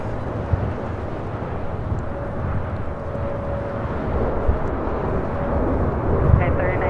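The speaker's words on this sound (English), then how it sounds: "Next departure is a JetBlue A321 in the newer livery." JetBlue Airbus A321 in the newer livery departing Los Angeles airport, a continuous low rumbling roar that swells slightly toward the end, mixed with wind buffeting on the microphone.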